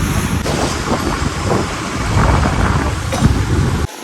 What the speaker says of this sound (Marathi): काय नुसताच पाऊस येतोय